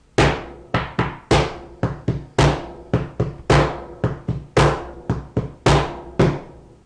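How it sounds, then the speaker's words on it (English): A drum beaten in the long and short rhythm of a line of Greek epic verse, giving a steady string of loud, close hits with uneven spacing, mixing doubled quick strokes and single longer ones, with no voices. "So a line of this, if played out with a drum, would sound something like this."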